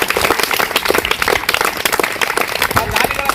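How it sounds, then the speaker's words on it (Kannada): Loud applause at a school event for government school children, with many hands clapping in a dense, continuous patter that fills the whole stretch, close and sustained. "ನಾವು ಜೋರಾದ ಚಪ್ಪಾಳೆ ಮತ್ತು ಅಭಿನಂದನೆ"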